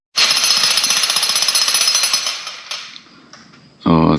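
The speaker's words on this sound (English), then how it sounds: "Nothing like jackhammer and rock." A jackhammer pounds rock at a concrete drain job site. It gives a loud, rapid, continuous chatter at close range that slows and stops near the end, then a short burst of another sound.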